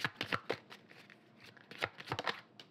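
Tarot cards drawn one by one and laid out for a reading, giving a series of soft, papery flicks and snaps in two clusters, close and fairly quiet, with no talking.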